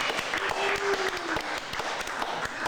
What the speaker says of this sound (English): We'll hold for a second while we get some applause here.